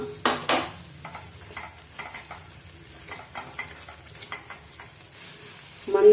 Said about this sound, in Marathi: आचेवरती हा मसाला सात ते आठ मिनिटापर्यंत तेल सुटूपर्यंत परतून घ्यावयाचा आहे